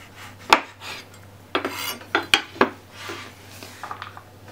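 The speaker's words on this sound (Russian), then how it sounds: "Для этого мы берем лимон. Так, надрежем его." A knife slices into a lemon on a kitchen surface, making a few sharp cutting clicks and short rasping strokes close by, separated by brief pauses.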